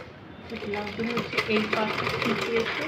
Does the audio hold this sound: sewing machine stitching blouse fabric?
yes